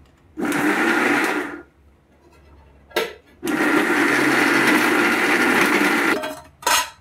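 A mixer grinder grinds tomato chutney ingredients with tamarind, salt and coriander, running in loud pulsed bursts, a short one, a brief blip, then a long run. A quick final burst follows, with a faint clink between runs.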